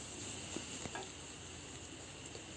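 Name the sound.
onion slices frying and being stirred in a pan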